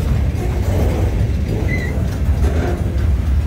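Steady low rumble of a long freight train rolling past close by, continuous and heavy, with faint rail squeals and clatter layered over the drone.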